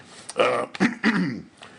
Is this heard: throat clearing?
yes